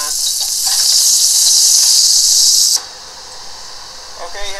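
Garfish balls sizzling as they brown in a pot, a loud, steady, bright hiss for nearly three seconds that suddenly drops to a quieter background fry, with faint clinks near the end.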